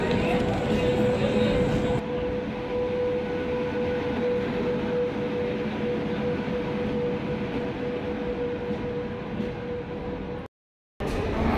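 A train runs at night between Haldwani and Delhi, heard from inside a carriage as a continuous loud rumble with a steady tonal hum, unbroken for most of the stretch apart from one brief dropout near the end.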